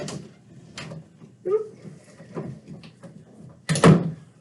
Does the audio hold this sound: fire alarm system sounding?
no